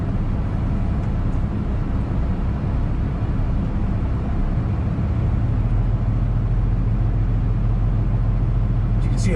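The Black Mamba truck rolls down the road on a 41-degree day, giving a loud, steady low rumble of engine and road noise that continues without a break.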